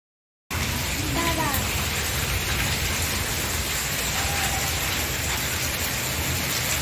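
Heavy rain pours down steadily and loudly as dense continuous hiss after a brief silent start, with a voice faintly audible underneath.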